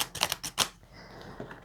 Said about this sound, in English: I think it's probably a fan shuffle.